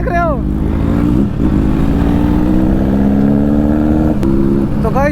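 A big motorcycle engine revs loudly and close by, its pitch sliding up and down in a thick rumble, while voices talk briefly at the start and end.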